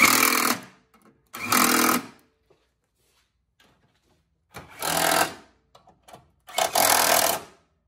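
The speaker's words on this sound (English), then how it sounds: "So I'm going to start with 14mm, tighten them down. 13mm." A power tool tightening 13mm radiator support bolts on a Fiat 500 Abarth, heard as four short, loud whirring bursts separated by silent pauses.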